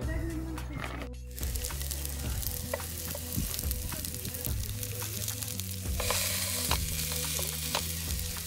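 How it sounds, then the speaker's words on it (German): Onion frying in a pan for vegan burgers, with a steady close sizzle, occasional stirring scrapes and a burst of louder crackling partway through, and some speech now and then. "Und eine Zwiebel ist schon in der Pfanne."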